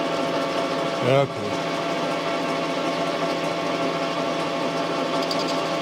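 A metal lathe turning down brass washers hums along at a steady mid-pitched drone at 654 RPM, with a brief rising whine near the start and a short spoken word over the machine.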